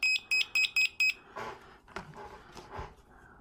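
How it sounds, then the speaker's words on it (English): A multimeter in continuity mode gives five short, sharp electronic beeps in a quick even series, followed by clicks and handling noises. "we need to set our multimeter to continuity mode. This mode is the one that beeps."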